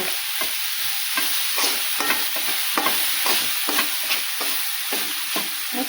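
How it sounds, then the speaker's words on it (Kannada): Vegetable palya fries in a pan while a spoon stirs it in regular scraping strokes over a constant sizzle, close and fairly loud with no voices. "ಈಗ ಚೆಂದಾಗಿ ಮಿಕ್ಸ್ ಮಾಡ್ತೀನಿ ನೋಡ್ರಿ."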